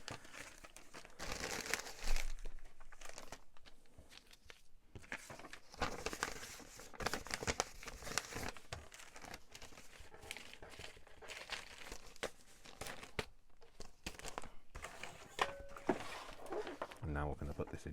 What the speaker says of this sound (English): just going to crumple them a little bit